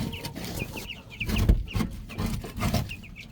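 Meat bird chickens, two and a half weeks old, cluck and peep softly in a droppings-caked pen, many overlapping short calls repeating throughout under a steady low rustle.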